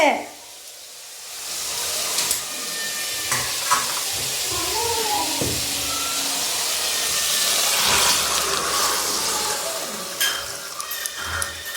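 Boiled drumsticks stirred into sautéed masala sizzle and hiss loudly in the pan, with scraping stir strokes and steam throughout, and brief voices in the background.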